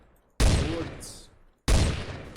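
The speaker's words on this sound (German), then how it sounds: "Da wird geschossen." Two loud bursts of gunfire ring out in the video game Trouble in Terrorist Town, each a sudden rapid volley that fades over about a second, with a short gap of quiet between them.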